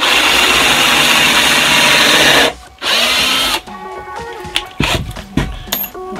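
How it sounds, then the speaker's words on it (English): A power drill bores a pilot hole in wood while building a kitchen vegetable box, a loud, steady whine for a couple of seconds, then a short pause, another burst, and some clattering handling noise. "Okay, again, you're gonna pre-drill,"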